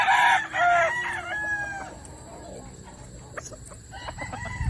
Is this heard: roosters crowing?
yes